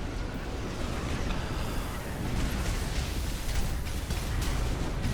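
A bazooka shot blasts in a video game match, a dense, sustained rumbling roar of explosive noise filling the whole stretch at steady loudness with no talk over it.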